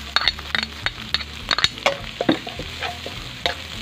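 Garlic and onion sauté in a hot pan for pork chao fan with chorizo, a steady close sizzle punctuated by frequent clinks and scrapes of a utensil stirring against the pan.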